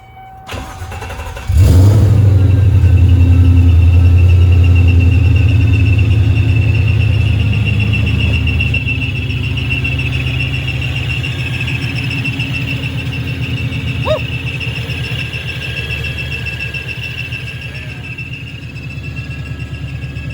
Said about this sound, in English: So I think the car overall sounds pretty good, considering with the Pro Charger on it.